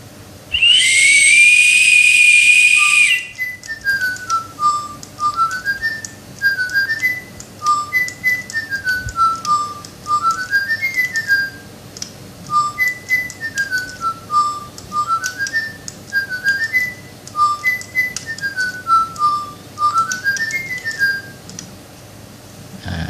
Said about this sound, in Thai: แต่ผมเป่านกหวี แล้วเดี๋ยวเขาจะดูว่าเขาจะร้องเพลงไหมดูนะครับ